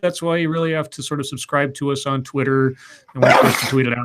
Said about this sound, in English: snuck up on by a wild sneeze